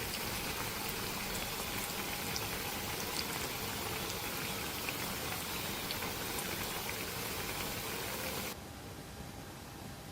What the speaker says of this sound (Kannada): ಇವಾಗ ಈಗ ಫ್ರೈ ಆಗುತ್ತೆ.